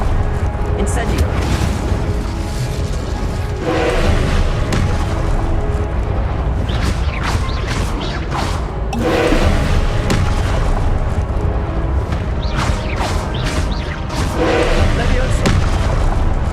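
Hogwarts Legacy gameplay with the Incendio fire spell being cast: loud repeated booming blasts and crackling bursts in dense game audio, with a voice talking over it.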